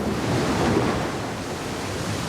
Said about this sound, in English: For winds blowing in gusts, for winds whistling in the branches.